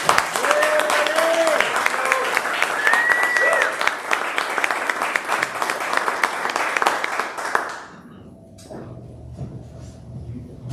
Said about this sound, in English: But let's give a round of applause for Marty Morton.